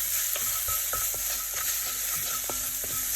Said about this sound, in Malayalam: ഇനി ഇതിലോട്ട് മഞ്ഞൾപ്പൊടി ചേർത്ത് കൊടുത്തിട്ട് അതിൻ്റെ പച്ച സ്മെല്ലൊന്ന് മാറുന്നത് വരെ നന്നായിട്ട് വഴറ്റിയെടുക്കാം.